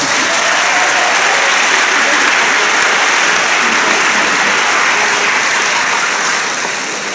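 Sustained, dense audience applause at a 2015 baccalaureate graduation ceremony, loud and steady throughout before tapering slightly at the end.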